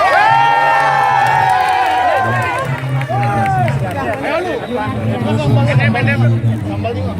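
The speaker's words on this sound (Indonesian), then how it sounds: "Tepuk tangan yang meriah." A lively crowd of supporters cheers and shouts for performers at a Balinese stage show, with loud whoops, children's yells and excited chatter close by and continuing throughout.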